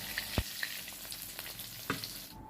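Onion, ginger and garlic fry over a medium flame in ghee left from frying paneer, a steady close sizzle broken by a few sharp crackles and ticks of spattering fat.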